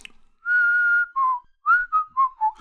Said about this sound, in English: there's a little whistling intro of a few seconds